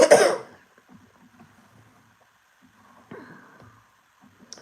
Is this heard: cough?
yes